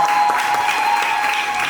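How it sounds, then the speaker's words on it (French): Guests at a wedding blessing break into sustained applause, a dense even wash of clapping that carries on for the whole moment without a break. "Ok, acclamons pour le Seigneur."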